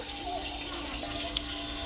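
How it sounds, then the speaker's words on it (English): Hot water runs steadily from a kitchen faucet into a measuring cup, a constant close hiss and splash, fairly quiet, with one brief clink near the end. "starting off with 1 cup of hot faucet water."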